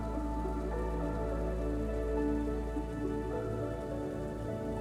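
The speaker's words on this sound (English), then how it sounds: "It's perfect that it's raining right now too." Rain pours down steadily in a dinosaur video game, a dense, even patter with a constant low hum beneath it and no voices.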